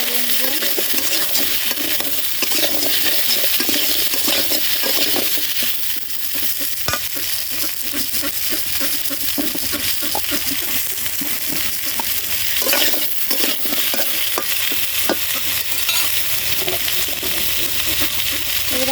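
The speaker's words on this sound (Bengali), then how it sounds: "মূলাগুলো ছেড়ে দিয়েছি এবার একটু হালকা নাড়িয়ে" Radish pieces sizzle steadily in a hot pan while a utensil stirs them, with continuous loud frying hiss broken by occasional scrapes and clinks throughout.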